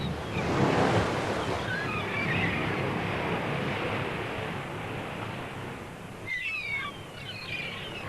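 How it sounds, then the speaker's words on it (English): Pacific surf breaking at the mouth of Redwood Creek, a steady roar of waves close by with gusts of wind across the microphone and no voices. "here at the confluence of the Pacific Ocean and Redwood Creek"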